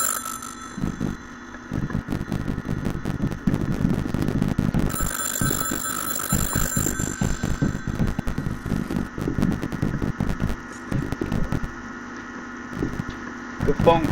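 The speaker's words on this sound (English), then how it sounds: "There's the phone that was ringing." A telephone rings in Garry's Mod, a steady repeating electronic trill over a rumbling, engine-like background hum that runs throughout.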